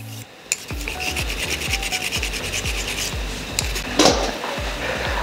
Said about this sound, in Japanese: 普段なかなか掃除ができないこのキャブの下のところ、とりあえず磨いておきます。